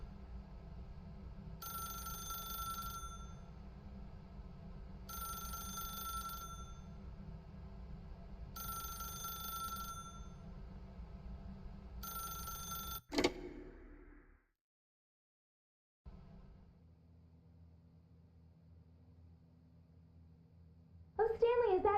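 An old-style telephone bell rings in The Stanley Parable Ultra Deluxe video game, four even bursts of loud ringing against a steady low hum, followed by a sharp click, a brief silence and a quieter room tone.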